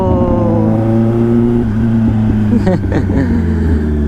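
A motorbike engine rumbles loudly up close with a steady low drone, dipping and rising briefly midway as the throttle shifts, with a voice cutting in over it.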